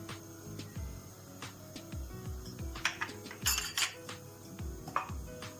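Metal tablespoon clinking and scraping against a pot while adding solid fat for vermicelli soup, a series of sharp taps and knocks at uneven intervals, close and fairly quiet.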